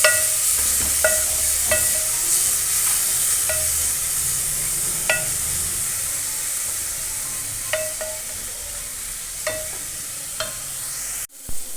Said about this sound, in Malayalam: നമുക്കിതിലേക്ക് ചെറിയ ഉള്ളി ക്രഷ് ചെയ്തത് ഇട്ട് കൊടുക്കാം. നന്നായി ഒന്ന് ഫ്രൈ ചെയ്യുക.